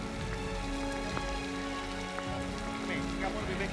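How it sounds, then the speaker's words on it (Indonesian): Steady rain falls onto surfaces in a continuous soft hiss with scattered drop patter, fairly quiet and unbroken, with no talk over it. "Tolong, Pras, ini hujan."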